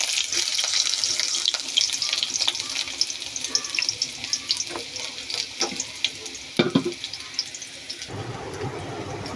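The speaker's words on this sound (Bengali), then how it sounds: "তেলগুলো গরম হয়ে আসছে, আমি পেঁয়াজ কুচিগুলো দিয়ে দিচ্ছি।" Chopped onions frying in hot oil, a crackling hiss with scattered pops and stirring knocks, the sizzle dropping away abruptly near the end.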